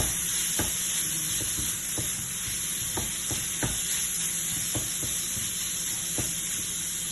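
Carrots and sautéed chicken are stirred in a pan for kubza chicken, giving steady close sizzling with intermittent scraping clicks of the utensil against the pan throughout, and no talking.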